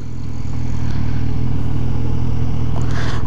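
A motorcycle engine runs slowly with a low, uneven idle, loud and close, a steady thudding pulse with faint mechanical clatter and no talking.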